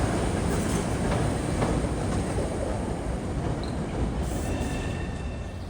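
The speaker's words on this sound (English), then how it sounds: "they have shuttle trains from here to Ashmont" An MBTA shuttle train at a Boston station on the Ashmont run, a loud steady rumble and rolling noise filling the whole stretch close by, with faint high squeals near the end.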